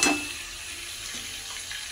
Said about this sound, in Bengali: মোচাগুলোকে ভালো করে নেড়ে নেব।